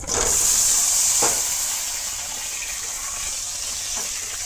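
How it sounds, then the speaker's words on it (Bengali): Pointed gourd (potol) dropped into hot oil in a wok, a loud burst of hissing sizzle at the start that settles into a steady frying crackle, close by. "তেলের মধ্যে পটলটা দিলাইলাম।"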